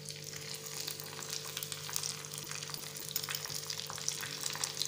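Curry leaves frying in hot oil for Gujarati-style dhokla, a soft, continuous sizzle with faint crackles and a low steady hum beneath.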